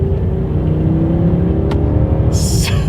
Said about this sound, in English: You guys could probably hear almost nothing there when I did that acceleration